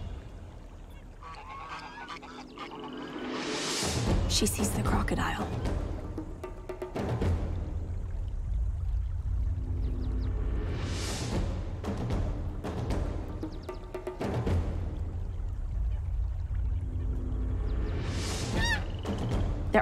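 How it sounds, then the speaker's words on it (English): Egyptian geese honking in the wild near water, with several loud drawn-out calls at intervals over a steady background, and a voice speaking briefly between them. "They're keeping an eye on those Egyptian geese."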